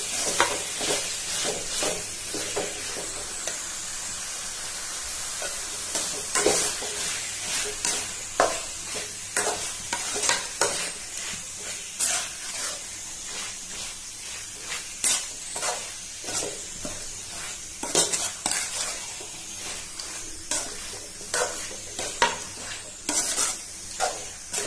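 Chicken masala being stirred in a frying pan, a steady scraping of the spatula with a soft sizzle underneath, the strokes coming in a repeated rhythm close at hand.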